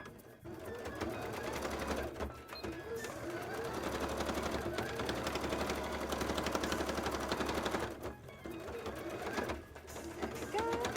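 A sewing machine running a top stitch along fabric, a fast, steady mechanical chatter in long runs broken by brief pauses, close and fairly loud, with no talking.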